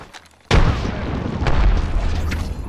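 A frag grenade goes off in Apex Legends: after a quiet half-second, one loud, close, deep boom bursts out and its roaring, rumbling aftermath sustains to the end.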